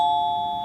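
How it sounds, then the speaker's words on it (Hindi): A doorbell at home rings with a steady sustained electronic tone, loud and close, with no voices over it. "दोनों जब टेबल पर बैठे तभी घंटी बजी।"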